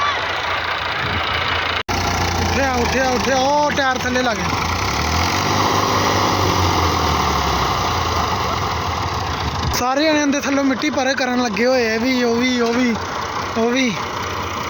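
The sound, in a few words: tractor 135 engine straining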